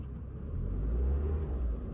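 A car engine revs under light throttle during a clutch start on an uphill slope, a steady close low rumble that swells briefly in the middle, with no talking.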